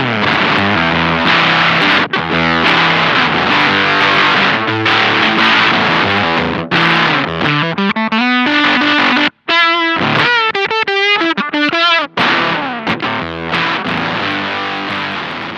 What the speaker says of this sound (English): this is the true distortion sound